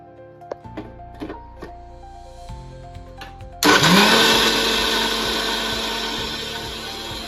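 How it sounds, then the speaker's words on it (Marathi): A kitchen mixer grinder whirs loudly into life partway through, blending a cooled muskmelon pulp mixture for homemade ice cream, its steady motor roar continuing after a few quiet clicks and knocks before it starts. "आता आपण याला मिक्सर मध्ये फिरवून घेऊया."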